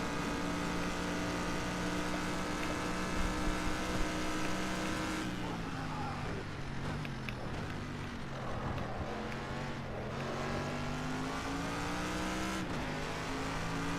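Race cars drone through a racing video game, with a sustained engine whine that shifts pitch as the car accelerates and lifts off, and a brief drop in tone around the middle before climbing again.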